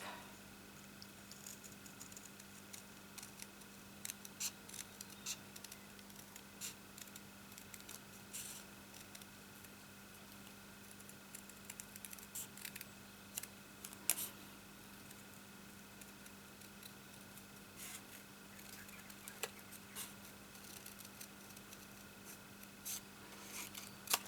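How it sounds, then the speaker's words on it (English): Scissors fussy cutting around a stamped paper card in a craft session, with soft, sparse snips and rustles spread out over a quiet steady hum. "Let's fussy cut this, which is really very, very easy."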